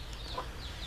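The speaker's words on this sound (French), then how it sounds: "Et on a les poules, voilà, on a les poules là-bas" Chickens clucking softly in a permaculture vegetable garden, a brief faint call over low outdoor background rumble, with no talking.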